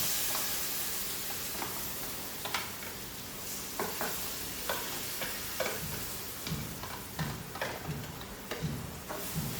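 Gravy simmering in oil in a pan for a Gujarati green chickpea curry, a steady close sizzle broken by scattered stirring clicks and scrapes of a spoon against the pan.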